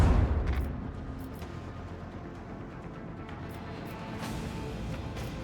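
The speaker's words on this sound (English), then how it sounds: "I want to hear the macro cannons roar." Macro cannons fire in the space combat of Warhammer 40k Rogue Trader, a heavy booming blast at the start that decays into a rumbling, crackling wash of distant impacts.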